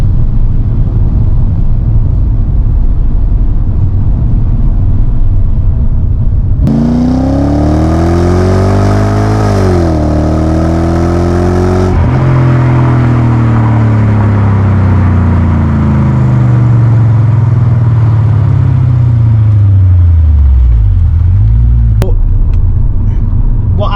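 A BMW E38 740i V8 drives along with a steady interior road rumble, then the engine note rises and falls through gear changes, heard from inside the car with a person talking over it.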